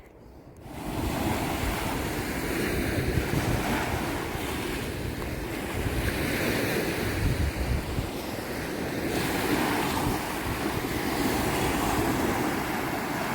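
Steady roar of Atlantic surf on Portugal's Rota Vicentina coast, where a river meets the ocean, with waves breaking continuously, mixed with gusty wind buffeting the microphone.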